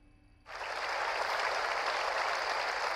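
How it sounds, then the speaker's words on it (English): Applause sound effect: a burst of crowd clapping starts abruptly after a quiet moment and holds steady and full for a few seconds. "That is an applause sound effect that I have."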